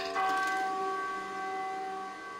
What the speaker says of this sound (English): The bells continued to ring out loud and proud after every Texas Tech